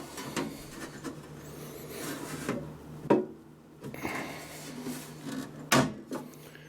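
Perforated metal grill lid being pried and pulled off a new amplifier after its screws are removed, giving several close clunks and scraping knocks with rubbing between them and no talking.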